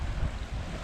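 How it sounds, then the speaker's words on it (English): Wind gusting in off the water at a bush campground, a loud, steady low roar buffeting close against the microphone, with no voices. "you're probably going to get a lot of wind off the water there"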